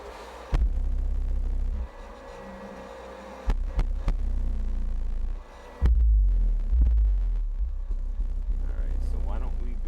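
Heavy bass music plays through a Boss Audio AR2500M car amplifier on a dyno test bench, deep throbbing low-end pulses in loud bursts with brief drops and a sustained rumbling section near the end.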